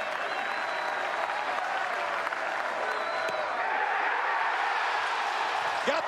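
Baseball crowd at UFCU Disch-Falk Field in Austin, Texas, applauding steadily and loudly throughout, a dense continuous roar of clapping with a few whistles, while a commentator talks over it.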